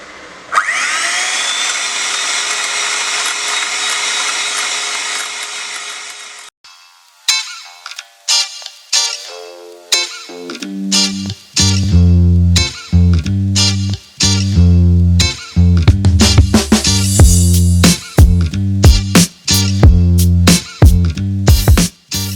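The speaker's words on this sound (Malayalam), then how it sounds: "എന്നിട്ട് നമുക്ക് ഇത് ബീറ്റ് ചെയ്തെടുക്കാം." Electric beater whipping a creamy mixture with a quarter teaspoon of Boost added: a steady loud whirring hum for several seconds, then a rapid series of clattering knocks and bursts as the beaters strike the bowl.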